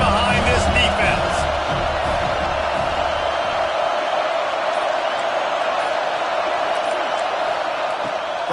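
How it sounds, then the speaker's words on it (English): Stadium crowd roaring at a football game on a big third down, a dense loud sustained wash of cheering throughout, with a commentator talking over it early on. "Big 3rd down as the crowd gets behind this defense."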